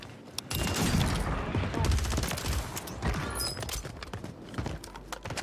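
MORS sniper rifle firing in Warzone on Rebirth Island, several sharp shots and other gunfire crackling through busy battle noise, fairly close and loud.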